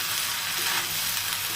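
Six or seven green chilies frying with rice in a pot for pulao, a continuous soft sizzle with faint stirring scrapes, steady and fairly quiet, no talk.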